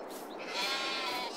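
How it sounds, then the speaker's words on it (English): Sheep bleat in the farming game Farming Simulator, a continuous, wavering cry from the flock, fairly close and clear with no talking. "Look at all them sheep."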